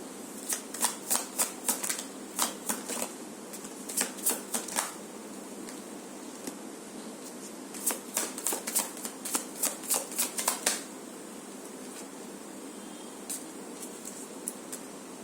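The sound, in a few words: shuffling a deck of cards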